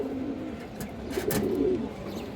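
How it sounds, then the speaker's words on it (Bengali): Bootfoot pigeons coo in a steady, low, rolling murmur that continues throughout, fairly close and without speech. "এই দেখেন দর্শক বুটফুটের কবুতর"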